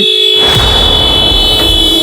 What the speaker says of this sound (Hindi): देखो जरा क्यों हॉर्न बजा रहा है।